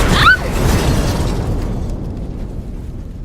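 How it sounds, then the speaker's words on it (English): A loud explosion bursts at the start, then a deep rumble slowly fades away. "A huge explosion rocked the tower and Leah was thrown against a wall."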